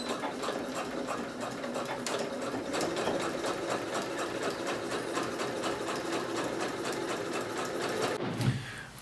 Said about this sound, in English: Then sew that seam 1 centimeter seam allowance.